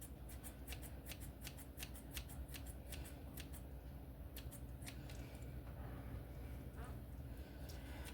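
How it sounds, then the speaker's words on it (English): Kitchen shears snip fresh basil in a quick run of crisp, rhythmic cuts, then a short pause and a few more sporadic snips, faint and close over low background hum. "we are using some kitchen shears to do this"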